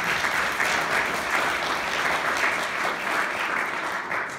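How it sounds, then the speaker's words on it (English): A crowd at a town's annual state-of-the-town address gives a full, sustained round of applause, dense and even throughout, loud and close, with no speech over it. "Please give Chief McAllister a round of applause."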